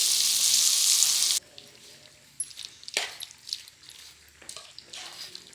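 Asafoetida powder is dropped into hot oil and stirred while making mango pickle, giving a loud burst of sizzle at the start that quickly dies down into faint scattered crackles and scraping.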